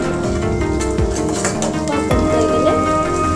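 Three or four green chillies drop into a hot pan and sizzle with a steady frying hiss, joined by a brief scrape or stir partway through.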